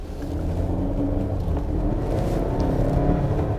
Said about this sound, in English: the acceleration with the turbo, this is the T5, not even the T6, is just amazing